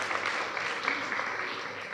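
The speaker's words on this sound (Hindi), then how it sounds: "जोरदार तालियां." At a Buddhist vihara gathering in Nagpur, the audience applauds loudly, a thick continuous patter of many hands at moderate level, with no talking on top.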